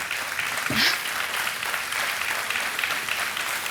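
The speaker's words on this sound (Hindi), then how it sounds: "तालियां बजती रहनी चाहिए।" Studio audience on a TV quiz show claps continuously and fairly loudly for several seconds, a dense even wash of applause with no voices over it.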